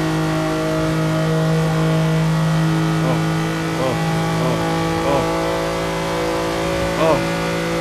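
A car driving in the racing game Forza Horizon 2, its engine holding a loud, steady mid-pitched drone with slight pitch wobbles and a brief swell near the end, close and continuous, with no words spoken.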